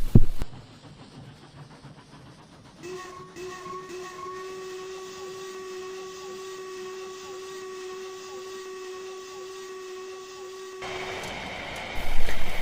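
Steam engine whistle from the Trainz railway game, a long sustained harmonic tone holding for about eight seconds over a steady hiss, framed by louder chuffing bursts at the start and end.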